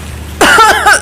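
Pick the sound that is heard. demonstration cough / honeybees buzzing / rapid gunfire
demonstration cough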